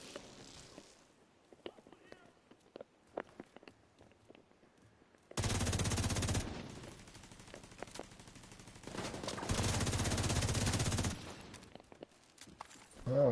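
Turret gunfire in The Division 2, loud sustained bursts of automatic fire in two long stretches, with scattered faint clicks and shots in the quieter gaps between.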